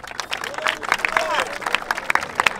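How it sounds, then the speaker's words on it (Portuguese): Crowd at a rap battle final claps and cheers for the first round, with a burst of scattered, uneven claps and shouts layered under lively chatter and hubbub. "Palmas primeiro round, família."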